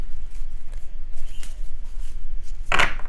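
Tarot cards being shuffled by hand, a soft, continuous riffling and rustling close up, ending in one sharper, louder flurry of cards.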